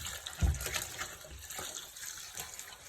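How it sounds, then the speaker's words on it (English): Solution poured from a bucket onto coco coir in a fabric pot set inside a 5-gallon bucket gives a soft, uneven splashing and trickling of liquid, close by, with one louder splash near the start. "And then we're gonna go ahead and pour it on there."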